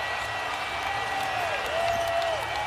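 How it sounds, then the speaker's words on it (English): Crowd in an NBA basketball arena during a Minnesota game, a steady roar of cheering and applause filling the space with no break throughout, loud and continuous. "Crowd back in the game."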